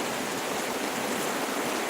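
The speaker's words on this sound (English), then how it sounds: "It's now raining." Steady rain falling outdoors during a live stream, a continuous hiss of water close by with no breaks, heard on its own without talk.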